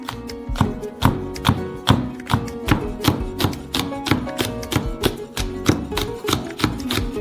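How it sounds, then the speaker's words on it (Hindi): A knife chops chillies on a board in fast, steady, evenly spaced close thuds, about two per second, continuing throughout with nothing else over them. "हम मिर्च को काट लेंगे"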